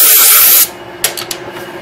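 Drill boring a deep hole through the centre of a piece of wood: a loud, harsh broadband whirring grind that cuts off abruptly, followed by a few faint scraping rasps.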